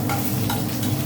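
Bitter gourd pieces fry in hot oil in a pan for a pea-dal shukto, a dense, loud, close sizzle with brief stirring scrapes.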